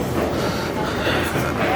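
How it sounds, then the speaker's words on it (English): A Prague metro train: a loud, steady rumble and rush of a subway car in motion, continuous and close, filling the space with no clear talking. "This is the Prague metro we are going to take now."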